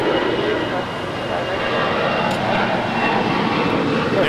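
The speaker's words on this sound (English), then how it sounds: "Now departing here on the south side is American Airlines Flight 413 going to Phoenix. It's a 21-year-old Airbus A319." Airbus A319, 21 years old, departing on American Airlines Flight 413 to Phoenix from the south side at Los Angeles International Airport: a steady broadband jet roar at moderate distance, holding level throughout with faint talk underneath.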